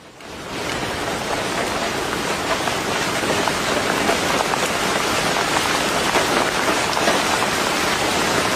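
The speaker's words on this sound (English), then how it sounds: "A deluge of rain was dumped across much of England and Wales today" Heavy rain from Storm Claudia pours down steadily across England and Wales, a dense, loud, continuous hiss of drops hitting surfaces with no letup.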